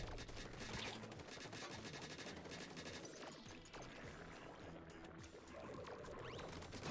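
Weapon fire in the Splatoon 3 story mode rattles out in rapid, continuous bursts, a dense stream of quick shots with splashy texture running almost unbroken, fairly faint overall.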